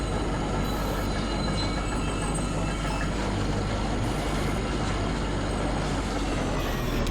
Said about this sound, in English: This tram isn't going any further.